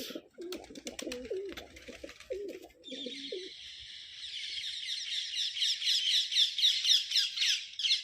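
A flock of pigeons calls and squawks in a busy, continuous chorus, with a few lower cooing notes early on, growing denser and louder toward the end.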